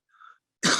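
A single brief cough bursts out close and loud after a faint tonal murmur, clipped off abruptly at the end.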